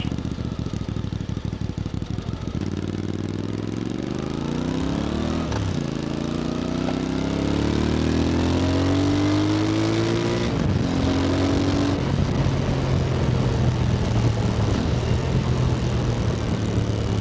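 A Voge 625DSX motorcycle fitted with a Scorpion exhaust rides up close, its engine note rising and falling through a U-turn, with the revs climbing steadily and then dropping off before pulling away again.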